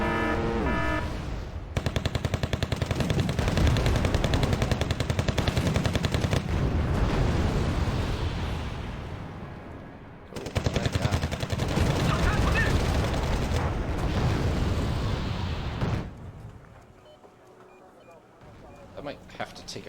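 Dense battlefield gunfire and missile strikes from the war strategy game Wargame: Red Dragon, a loud continuous roar of rapid shots and blasts that cuts out briefly midway, then resumes before fading to low rumble with a few faint pops.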